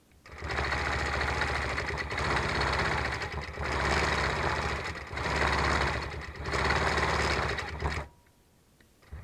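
A longarm quilting machine stitching a patriotic log cabin quilt, running in a loud, steady, humming drone with slight surges in speed, then stopping abruptly near the end.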